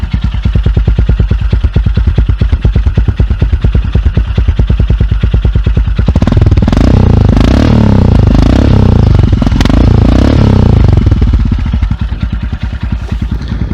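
A borrowed motorcycle with a light, unbaffled exhaust starts up loud and close. It settles into a fast, steady idle chug, then breaks into rougher, louder blips and revs before easing back toward idle, with no talking.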